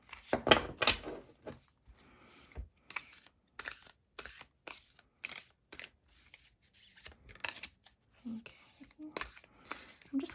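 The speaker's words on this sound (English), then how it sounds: "let me go ahead and shuffle this deck a little" Tarot cards being shuffled in a series of soft, crisp riffles and flicks, close by, with short pauses and faint rustling between bursts.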